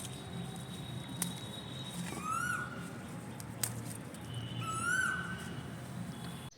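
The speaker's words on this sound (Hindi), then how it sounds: "कोयल की कितनी सुंदर आवाज़ आ रही है।" Asian koel calling on a morning in a home garden, two rising whistled calls a few seconds apart, moderately near, over steady background noise and distant bustle.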